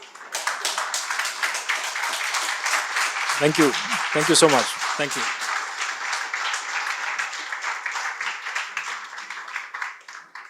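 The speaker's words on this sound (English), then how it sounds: "stand up and clap" An audience stands and claps for a runner who covered 253 kilometres across the Sahara. Dense, sustained applause fills the whole stretch while a voice briefly says thanks over it.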